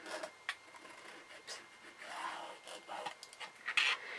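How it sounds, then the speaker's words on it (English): A pencil drawn along both sides of a 1/2 inch ruler while marking stitching lines on a Bear Claw quilt block, giving soft scratchy strokes in short bursts, close and quiet. "you simply just draw on both sides of the ruler"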